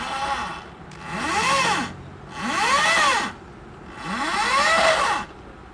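A Honda Revo motorcycle converted to electric drive, with its controller submerged, spins up three times. Each burst is a rising and falling electric motor whine that sweeps up and back down, close and fairly loud.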